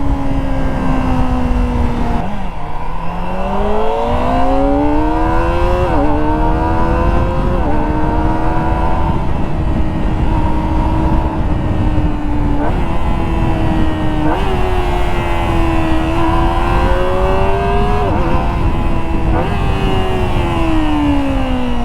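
A 2024 Kawasaki ZX-25R SE motorcycle with a 250cc inline four-cylinder engine revs loud and close, its tone repeatedly climbing and dropping as the throttle is worked, over a constant engine roar.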